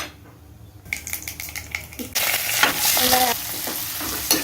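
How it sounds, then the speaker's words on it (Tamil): Mustard seeds dropped into hot peanut oil, a quiet pan building into a loud, close, steady sizzle with spattering crackles, no talking. "இப்போது எண்ணெய் காஞ்சிருச்சுன்னு நினைக்கிறேன் கடுகு ஆட் பண்ணலாம்"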